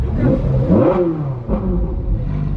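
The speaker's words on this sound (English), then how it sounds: "sounds amazing. I can't believe I'm driving a 458" A Ferrari 458 Spider engine revving while driving, a loud close growl rising in pitch, dipping briefly, then climbing again over a constant low rumble, with no talking.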